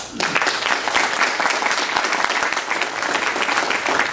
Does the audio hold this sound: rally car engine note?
no